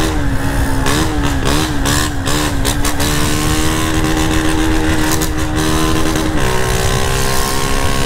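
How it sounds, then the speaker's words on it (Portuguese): A Honda Start 160 motorcycle with a loud, noisy aftermarket exhaust revs hard and continuously, its pitch rising and falling in close, aggressive bursts before settling into a steady throbbing idle. "É louco, esse escape aqui é barulhento"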